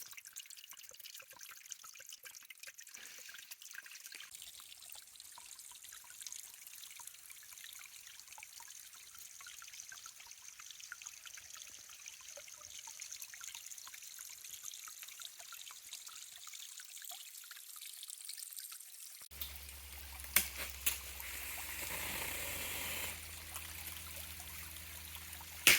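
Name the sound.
natural stream trickling like a water feature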